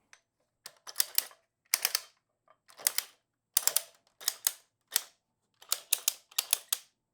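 Sharp mechanical clicks from an adjustable dumbbell's weight-selection mechanism come in quick clusters of two to four, separated by short pauses, crisp and close with no other sound between them.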